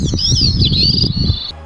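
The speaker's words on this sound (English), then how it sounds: "That's the sound of the Bicknells thrush" A thin, high wavering whistle of a Bicknell's thrush carries over a heavy low rumble, one continuous song phrase that cuts off abruptly.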